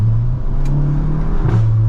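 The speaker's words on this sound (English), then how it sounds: "I've missed that DSG fart every time you shift." A Volkswagen GTI's revving engine drones loudly, then a quick break in the tone with a short burst of exhaust crackle as the DSG gearbox shifts, and the engine picks up again.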